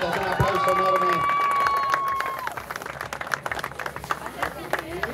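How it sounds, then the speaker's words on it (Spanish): A crowd applauds at a motocross championship trophy ceremony, a steady wash of clapping that continues under an announcer's voice on a loudspeaker, with a brief whistle-like tone near the start. "Un aplauso enorme para Nano Ortiz"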